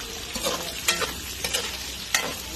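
Pancit guisado with upo being sautéed in a pan: a soft continuous sizzle broken by four or five distinct stirring scrapes, close and moderate in level, with no one talking.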